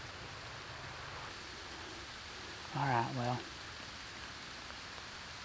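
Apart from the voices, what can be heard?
rain falling outdoors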